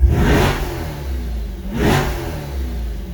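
Chevrolet Corvette C8 engine in tour mode revs up twice in strong surges, each rising then falling back to a deep rumbling idle, loud and close.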